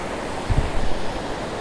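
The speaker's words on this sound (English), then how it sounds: "We're on the wet sand now, just before the surf." Surf and waves breaking at a wet sand beach during saltwater metal detecting, a steady broad wash of noise with wind buffeting the microphone and a few low thumps.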